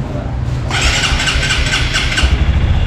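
A 2025 Honda CRF150 motorcycle engine cranks and catches, then settles into a steady, loud idle close by.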